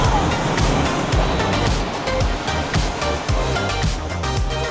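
Ocean surf rolls and crashes on a beach, a loud steady wash with repeated low thumps of breaking waves throughout, no voices over it.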